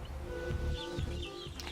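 Chickens cluck softly nearby at an eggmobile on a wine estate, with a few short calls and chirps over a low background hum.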